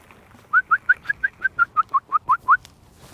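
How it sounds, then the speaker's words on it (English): A bird with reddish plumage, nesting nearby, calls in a quick even series of about eleven sharp, clear notes, fairly close and loud against quiet surroundings. "Tell me what kind of bird this is."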